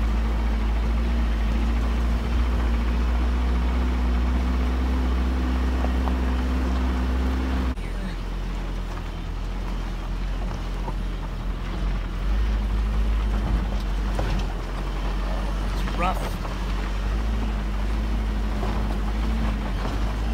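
A 1986 Toyota four-wheel drive grinds up a rough mountain trail near Lake Tahoe, its engine droning steadily and loud from inside the cab with rattles and bumps throughout, while someone talks over it.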